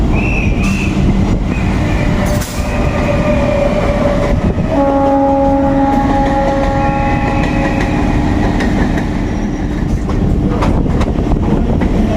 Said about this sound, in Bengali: আরেকটা পিঙ্কি ছুটে আসছে এই পিঙ্কি ট্রেন